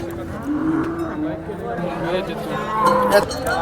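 HF cows low in drawn-out moos at a busy cattle market in Sangola, Maharashtra, under steady crowd chatter and a nearby voice.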